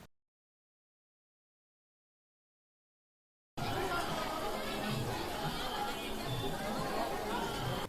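Devotees crowd a temple during Dashain festivities. After several seconds of silence, a dense babble of many voices and general hubbub starts suddenly and continues, fairly near.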